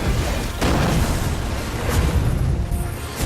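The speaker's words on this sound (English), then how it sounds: "And I throw the bomb at you" A bomb in the video game Sacred 3 goes off in loud, deep booming blasts, with a couple of rumbling bursts rolling one after another.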